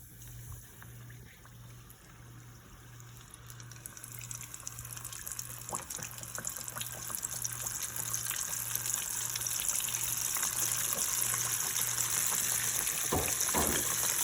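Battered fish frying in hot oil gives a continuous bubbling sizzle that grows gradually louder and denser, heard close with a faint low hum beneath it.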